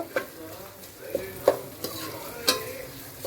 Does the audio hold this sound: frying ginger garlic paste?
yes